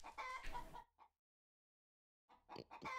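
Chicken clucking in Cube Life Island Survival on the Wii U: a short burst of clucks, then a brief cluck, a pause of silence, and another run of clucking.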